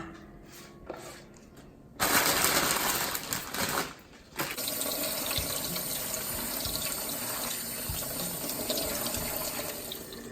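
Tap water runs into a sink while a 200-gram pack of roughly chopped spinach leaves is washed, a steady loud splashing rush that starts abruptly, briefly dips, then flows on continuously with small knocks.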